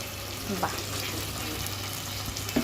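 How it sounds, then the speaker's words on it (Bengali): Spice paste frying in a pan with hot water added, a steady broadband sizzle and hiss running throughout, with a couple of faint clinks over the constant frying noise. "খুব সুন্দর হয়েছে ভাজাটা ব্যাস কষা মশলাটার সাথে গরম জল"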